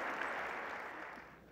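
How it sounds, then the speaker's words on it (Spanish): Audience applause at an education conference, a dense, steady wash of clapping from a crowd that stays loud and gradually thins slightly toward the end. "No nos resta más que agradecerle con el aplauso de todos ustedes"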